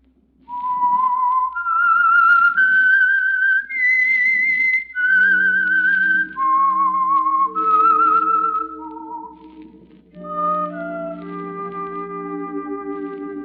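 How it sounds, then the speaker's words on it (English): A lone whistler performs the eerie theme melody that signals the Signal Oil radio mystery program The Whistler, a clear series of sustained notes with short pauses, ending in lower, steadier tones. "That whistle is your signal for the Signal Oil program, The Whistler."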